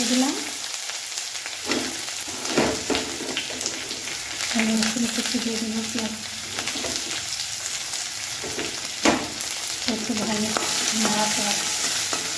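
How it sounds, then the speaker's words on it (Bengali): Steady sizzling of eggs frying in a pan, with occasional scraping and stirring sounds over the hiss and faint voices in the background. "ভালো করে ভাজা ভাজা করে নিতে হবে এটা"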